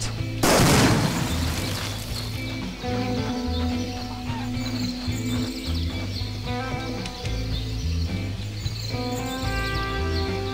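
A grenade blows up a house in the game VietDoom, one sharp loud blast near the start that fades into a steady background of game ambience and distant chirping.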